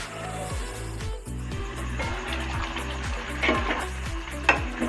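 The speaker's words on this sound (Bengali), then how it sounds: "এবার আমি চিকেনটাকে কষাতে থাকব।" Chicken for rezala sautés in a covered pan over a medium gas flame, giving a soft steady sizzle under background music with a few small clinks.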